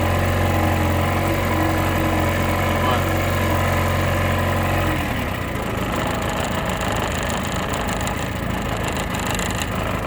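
A 1957 Mercury Mark 10 outboard motor, running after sitting 45 years, drones steadily at a constant pitch, then the tone shifts to a rougher, busier rumble halfway through; continuous engine noise throughout.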